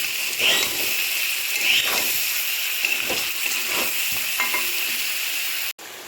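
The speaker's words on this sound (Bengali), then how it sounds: "সেটা এবার মাটনের ওপর ঢেলে দেবো, করে কষতে থাকবো।" Mutton coated in a yogurt and spice paste, stir-fried in a pan for a Rajasthani mutton dish, a loud steady sizzle broken by repeated scraping stirs at a relaxed rhythm, heard close with no talk.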